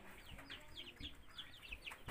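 Several chickens cluck and chirp inside a coop, a busy run of short calls repeating through the clip over a soft background hiss.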